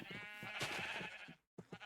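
A sheep in modded Minecraft bleats in a near, wavering cry, followed after a short silence by the start of another bleat.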